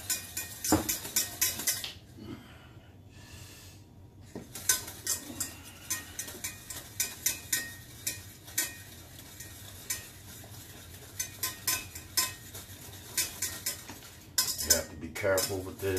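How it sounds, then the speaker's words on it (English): Risotto stirred constantly in a pot with a metal utensil, steady repeated scraping and clinking against the pot over a faint sizzle, close by, with a couple of brief pauses and no talking. "that's going to be a good 20 to 30 minutes of constant stirring"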